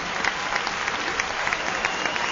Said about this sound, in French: Acclamation du public